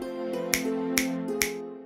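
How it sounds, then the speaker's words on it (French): Three crisp finger snaps, evenly spaced about half a second apart, sounding clearly over a steady sustained musical tone. "D'un claquement de doigts"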